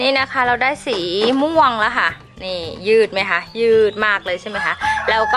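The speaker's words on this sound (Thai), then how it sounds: "ขอโทษด้วยนะคะ มีเสียงไก่" Chickens cluck and a rooster crows in the background while someone talks steadily over them.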